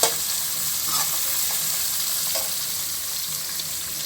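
Sweet corn, carrot pieces and cabbage stir-fry in oil, an even close sizzle with soft stirring scrapes throughout and no voices.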